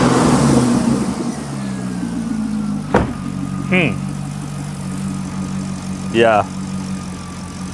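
A Chevrolet Corvette engine runs at a steady idle with two short revs rising over the drone, recorded close up while someone speaks briefly at the start.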